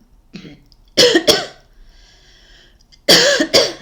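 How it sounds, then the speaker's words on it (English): Two separate bursts of coughing, each a pair of sharp harsh coughs, close by with a quiet breathy pause between them. "Why are you coughing?"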